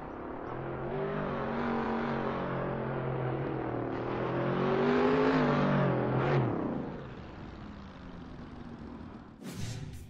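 Hennessey Venom F5 hypercar engine with quad rear exhaust, a loud sustained roar that climbs in pitch as it revs, peaks, then drops away into a quieter drone with a brief sharp noise near the end.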